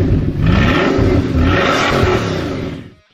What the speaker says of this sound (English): when you hear that quad turbo W16 engine rev up